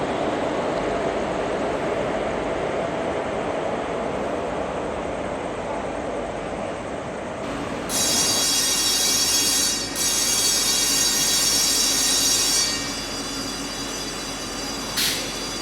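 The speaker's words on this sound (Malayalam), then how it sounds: "ചെന്നൈ സെൻട്രലിലേക്ക് വന്ന് വെസ്റ്റ് കോസ്റ്റ് എക്സ്പ്രസ്" The West Coast Express, hauled by an Arakkonam shed locomotive, stands at Chennai Central under a steady broad station rumble. Midway, a shrill electric platform bell starts ringing continuously for several seconds, then stops, with a short final ring.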